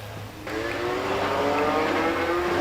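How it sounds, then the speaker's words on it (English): A Bergman Austin 7 vintage car accelerates hard up the Prescott hill climb course, its engine note rising and sustained, loud and fairly close throughout with no talk. "The Bergman Austin 7 is ascending"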